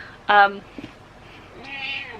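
Pet cat meowing indoors: one clear, loud meow near the start, followed by a brief faint sound and then a quiet, drawn-out whiny vocalization.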